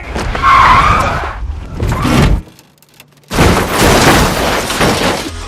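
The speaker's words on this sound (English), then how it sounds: "A fight breaks out between Henry and Archie, causing the truck to crash and become stuck" A truck crashes and gets stuck in a film scene, heard as a loud burst of skidding and crunching impact noise, then a brief quiet gap before more loud, dense commotion returns.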